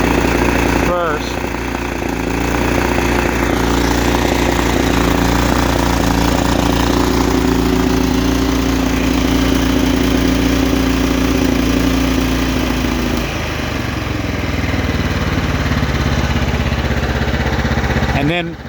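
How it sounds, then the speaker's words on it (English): A Kohler PowerPlus 17 small engine, hard to cold start and with erratic high-end RPM, idles loudly and close with a steady chugging drone whose pitch shifts partway through, ending with a short clunk. "It idles just fine, but it will not start well."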